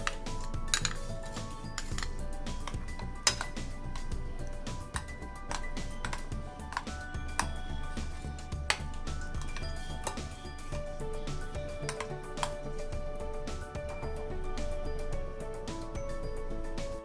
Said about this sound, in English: We have to fill the mixture into the glass containers